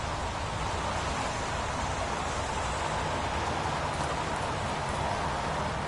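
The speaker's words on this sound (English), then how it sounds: "Goddamn rain. Hasn't stopped pouring since I arrived." Pouring rain in the PS4 video game Heavy Rain makes a dense, even hiss that runs unbroken throughout and stands alone, with no voices over it.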